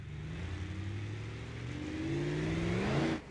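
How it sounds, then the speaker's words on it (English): A tuned car engine in BeamNG.drive, a Rotsun with turbo power, revs steadily and climbs in pitch, the note rising as it pulls before cutting off abruptly near the end, heard alone. "Love the sound of this motor."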